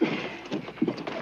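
Horses in a Western setting, with several soft hoof thuds and low snorting sounds coming at irregular intervals over a steady background.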